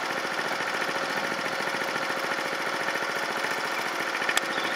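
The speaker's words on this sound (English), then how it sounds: "I'm going to put the mower away." A lawn mower engine runs steadily at close range as the mower is wheeled away after cutting a lawn, giving a continuous buzzing, rapidly pulsing drone with no voices.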